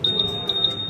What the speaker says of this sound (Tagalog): Answer back alarm yan, sir.